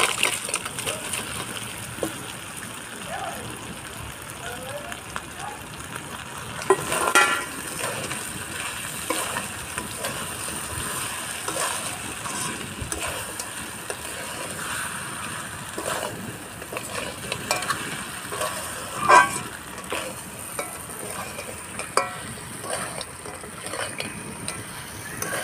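Crab and fried potatoes are stirred into a sizzling spice paste in a pan, giving a steady low sizzle with repeated scraping stirs and occasional clanks of a spoon against the pan.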